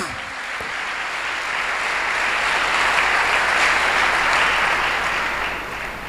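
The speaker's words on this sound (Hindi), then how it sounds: "जोरदार तालियां" Dense applause from a church congregation during a Hindi-Urdu Pentecost sermon, a steady wash of many hands that swells slightly toward the middle and holds for several seconds without a voice over it.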